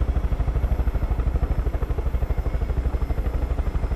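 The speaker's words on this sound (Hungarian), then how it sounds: "Ezzel a helikopterrel," A helicopter in the video game Far Cry 5 drones steadily with fast, heavy rotor thumps pulsing evenly throughout, loud and close, with no talking.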